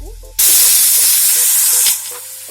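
Spice paste hits a hot pan with lotus stem and erupts into a loud, steady sizzle that holds for over a second, then settles into a softer frying hiss with faint stirring clinks.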